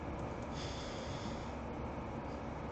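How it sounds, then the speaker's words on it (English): Nose breathing right into a microphone, a close, steady hissy rush of air without pauses, soft overall. "You could hear me nose breathing into my mic on that."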